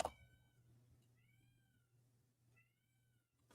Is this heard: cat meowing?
yes